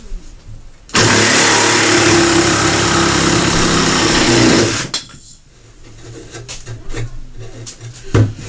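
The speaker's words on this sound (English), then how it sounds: "let's just see how it cuts through this wood" A Ryobi jigsaw saws through a 1x4 wood board, a loud steady buzzing cut running for about four seconds after it starts, then stopping, followed by quieter handling noises and faint background sounds.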